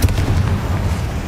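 A Confringo spell from Hogwarts Legacy goes off in a loud, close fiery blast that opens with a sharp burst and rolls on as a dense, crackling rumble, with no one speaking.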